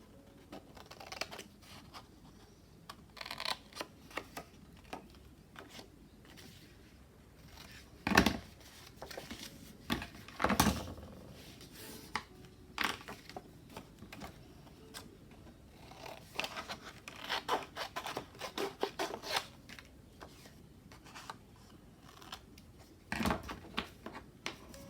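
Scissors trim lace for a handmade journal, quiet intermittent snips and rustling of fabric and paper close up, with a few sharper cuts scattered through the stretch.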